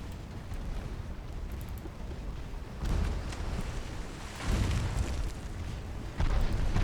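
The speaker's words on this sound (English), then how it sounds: "Oh, wow, we must have gotten a big hit. Some kind of an explosion." Heavy shellfire and a ship exploding from a big hit during a 1907-1908 German naval campaign battle in Ultimate Admiral: Dreadnoughts, deep booming blasts rolling in successive loud waves over a constant low rumble, no voices.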